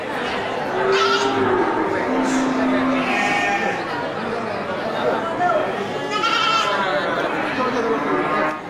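Kacang goats bleat repeatedly amid a busy crowd, with people chattering and calling nearby over a constant hubbub of a livestock market.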